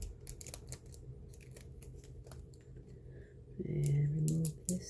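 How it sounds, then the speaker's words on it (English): Tape being pulled off a Bose 5-disc CD changer, heard as scattered close crackly ripping and peeling ticks, with a louder, denser tearing stretch near the end. "let's remove the tape here"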